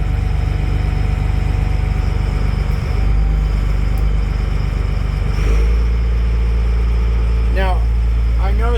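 A Kalmar 52,000 lb forklift's engine runs loud and steady at idle, its low rumble rising as the throttle lifts the RPM partway through, with speech and a few chirpy squeaks over it near the end.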